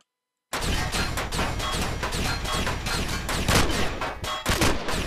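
Turret fire in Empyrion - Galactic Survival, sudden after a moment of silence, then a relentless, loud barrage of rapid shots and impacts that keeps going.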